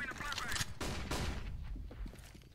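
Bursts of rapid gunfire sound in Counter-Strike: Global Offensive, several loud cracking volleys close together, with a voice faintly mixed in.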